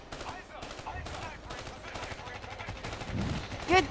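Gunfire from Call of Duty Black Ops 3 in realistic mode crackles in rapid, dense bursts throughout, with a louder close shot near the end, mixed with game noise and some voices.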